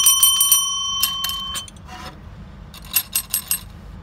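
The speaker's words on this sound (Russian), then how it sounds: "Небольшие примерчики по колокольчикам, которые у нас один обработан и второй нет." Small bells jingle in a car wheel arch, compared between an arch with exterior soundproofing and an untreated one: first a bright ringing with long sustained tones, then after a pause a set of sharper, shorter rings.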